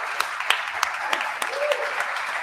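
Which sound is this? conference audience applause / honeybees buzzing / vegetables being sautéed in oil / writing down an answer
conference audience applause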